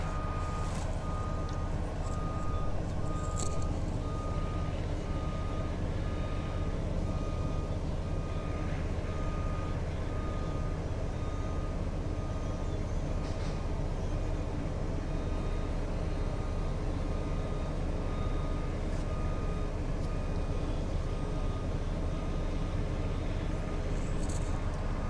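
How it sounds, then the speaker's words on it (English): A truck's backup beeper sounds faintly and repeatedly in the distance while the truck reverses, set against a constant outdoor hum of traffic. "Is this truck ever going to quit backing up? I hear a backup beeper somewhere."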